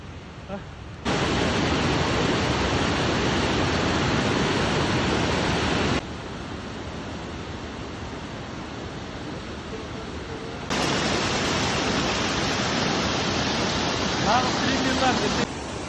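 The waterfall at Alma Arasan roars as steady, broadband rushing water, close and loud throughout, with its level stepping up and down as the recording shifts.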